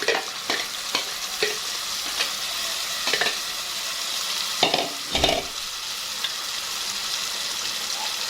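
Chopped onions and blended tomatoes fry and sizzle in a pan, with a steady hiss broken by several sharper stirring scrapes and clatters, the loudest near the end. No one speaks.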